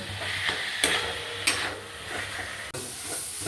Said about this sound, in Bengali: এরপরে আলু সোয়াবিন ভেজে রাখা আলু সোয়াবিনটা দিয়ে দেবো। দিয়ে এটা আবারও কিছুক্ষণ কষবো।